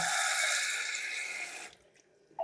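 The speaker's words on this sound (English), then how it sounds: "I'm going to add some water." Water pours steadily into oatmeal, a bright continuous splashing stream that stops abruptly partway through, leaving near silence and a faint small clink at the end.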